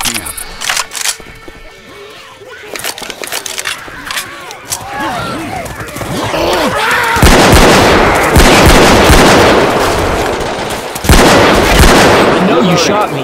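Gunfire in a shooter video game, loud bursts and sustained rapid shots with explosive booms, growing denser and louder, mixed with game sounds and voices talking.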